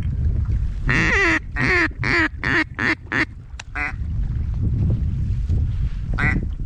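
Ducks on a mid-Missouri hunt, with green-winged teal around: a loud, close run of rapid quacking calls in a series of about eight bursts, then a final call over steady background rumble.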